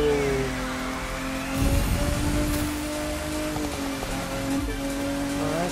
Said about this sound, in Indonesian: Hujan juga nih soalnya.